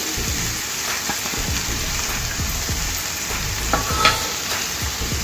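Chopped onions hit hot oil in a pan for an onion and moong dal curry, producing a loud continuous sizzle and crackle with scattered pops and stirring scrapes, no talking.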